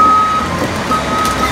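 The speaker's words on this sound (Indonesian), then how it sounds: "ini mobil eskavator." A toy excavator gives steady electronic reversing beeps, a thin high tone repeating in short pulses, fairly loud and close over a light hiss.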